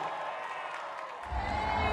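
A large crowd at an election rally cheers and claps. The sound swells louder in the second half into a broad, sustained roar.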